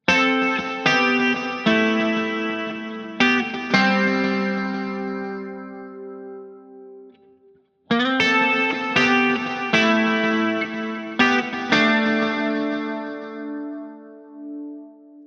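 Clean electric guitar with bridge and neck pickups combined for a twangy, Tele-like tone, played through an Eventide H9 space-time algorithm: a slow melodic phrase of plucked notes ringing out into lush echoes and reverb, with a short pause midway and no talking.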